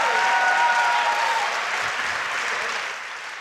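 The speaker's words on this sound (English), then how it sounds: "So give yourselves a round of applause for that too" An audience at a senior recognition ceremony gives a loud round of applause, a dense wash of clapping that holds steady and then slowly fades over a few seconds.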